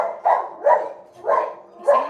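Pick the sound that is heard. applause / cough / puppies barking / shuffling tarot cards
puppies barking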